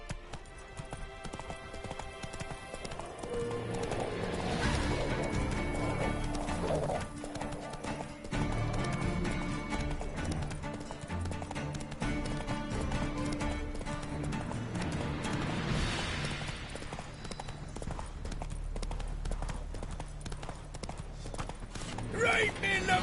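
Roach, Geralt's horse in The Witcher video game, gallops with rapid hoofbeat clip-clop and an occasional whinny, beneath a continuous game soundtrack and talk across the whole stretch.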